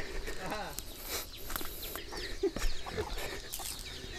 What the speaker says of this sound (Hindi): मुर्गी भी तगड़ा तगड़ा है